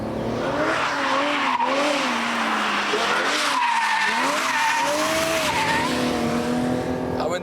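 A V12-engined car driving fast and skidding on a wet surface, tires squealing in long wavering tones over a steady engine roar, loud and continuous throughout.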